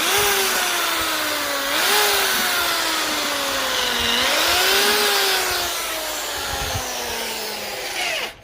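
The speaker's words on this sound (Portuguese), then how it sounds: "Vamos fazer aqui os furos dos arames, ó." Power drill boring wire holes in a handmade bonsai pot, a steady whining motor with pitch dipping and rising as the bit loads and frees, close and continuous before cutting off.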